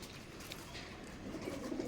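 A white pair of pigeons in a backyard loft coo softly, a low murmuring call set against a faint, steady background hum, with no talk.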